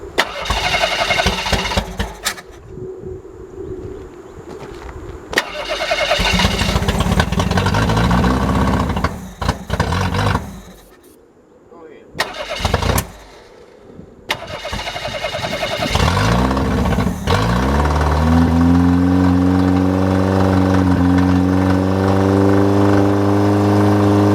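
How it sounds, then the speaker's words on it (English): A Ford EXP in a junkyard cranks in several loud bursts with pauses between them, then catches and settles into a close, steady running drone with rising and falling revs. "Oh, but it ran."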